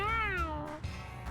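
A single drawn-out, wavering cat meow in the Mewgenics video game, close and clear, fading into a short softer sound.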